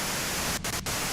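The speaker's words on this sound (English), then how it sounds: "you can do it through the white noise" White noise static in the video game Disco Elysium, a constant loud hiss spread across the whole range, broken by two short dropouts in the middle.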